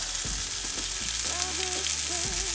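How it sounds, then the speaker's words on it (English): A vegan burger patty sizzles and fries steadily in a frying pan, a continuous close hiss with a low hum and some tonal whine underneath, no voices. "It's starting to sizzle up right now."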